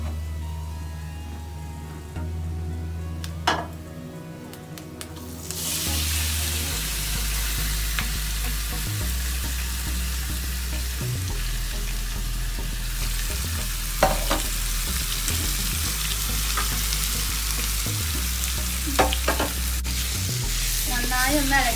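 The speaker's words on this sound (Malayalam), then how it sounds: "നന്നായി ഒന്ന് ഇളക്കി കൊടുക്കാം നമുക്ക്." Chicken for a Kerala-style pepper chicken roast sizzles steadily in a hot pan, with close scraping and clinking of a spoon as it is stirred, loud and continuous with no talking.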